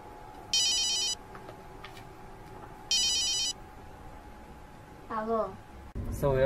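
A mobile phone rings in two short electronic bursts a couple of seconds apart, with a quiet pause between them, before a voice starts talking close by.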